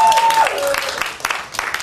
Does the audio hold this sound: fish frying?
no